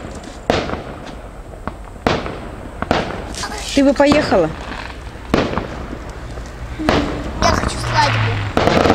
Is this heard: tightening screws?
no